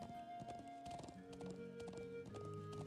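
Rhythmic horse hooves clip-clop steadily in the Trails of Cold Steel video game while a mounted character rides, layered over game music without talk.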